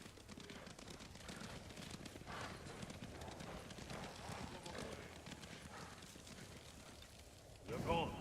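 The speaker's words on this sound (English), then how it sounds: "You hear that? Horses!" Horses gallop past in the video game Ghost of Tsushima, a rapid clip-clop of hooves with a soft whinny, steady and fairly close, while birds chirp in the background.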